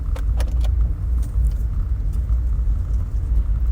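Car interior on the move, with a steady low road rumble and engine drone throughout and a few light rattles or jingles near the start, no talking.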